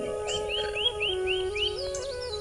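A red-wattled lapwing calls with a run of short, rising whistled notes repeated in a steady rhythm, clear and fairly close, over a soft background of other birds and a faint insect hum.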